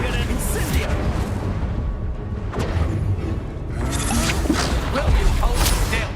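Explosive spells blasting in Hogwarts Legacy combat: repeated booming impacts and mechanical crashes over a dense, busy battle din, with voices shouting throughout.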